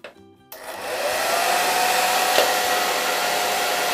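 After a brief moment of quiet, a hair dryer inserted into a bottle for hair styling switches on and blows with a steady loud whoosh and a constant motor whine.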